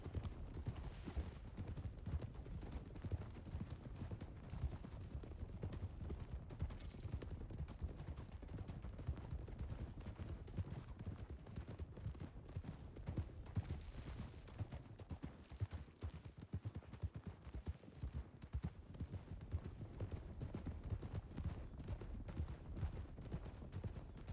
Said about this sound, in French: Je lui dis que je peux pas galoper, mais il galope.